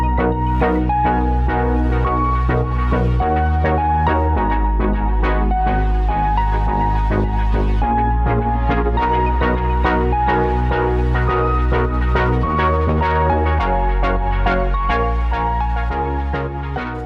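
A pitched-up synth lead from a Serum preset plays a continuous melodic line over steady chords and bass in a lo-fi beat, sounding full and constant throughout with no speech.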